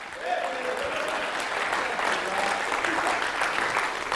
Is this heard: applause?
yes